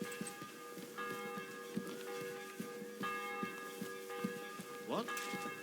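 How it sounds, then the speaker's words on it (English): Church bell ringing in the video game Kingdom Come Deliverance 2, with repeated resonant strikes at a steady pace and long sustained tones, plus faint clatter and a brief voice-like sweep near the end. "The bell's ringing for Hans the 5th time."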